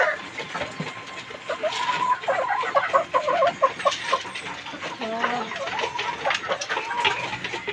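Gamecock stag roosters being fed in a yard, clucking and giving short calls close to the microphone, with one bird's calls rising above the steady flock chatter throughout.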